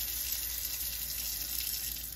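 Warm tap water runs in a steady, even hiss into a clean sink, close and continuous for a couple of seconds with no voices.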